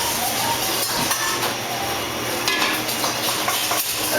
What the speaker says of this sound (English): As soon as the pan starts to heat, we agitate the almonds immediately so that they brown evenly.